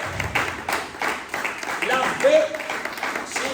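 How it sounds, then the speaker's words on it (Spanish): Church congregation clapping in an uneven, rhythmic patter of many hands, with voices and a brief vocal exclamation mixed in over the applause. "Denle un aplauso al Señor si puede"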